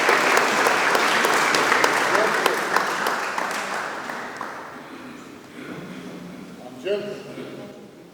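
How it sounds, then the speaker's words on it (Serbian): Applause at a protocol signing ceremony: a full round of clapping from the audience that slowly fades away, followed by softer room sounds and a few faint voices. "Možemo ih pozdraviti jednim aplauzom, naravno."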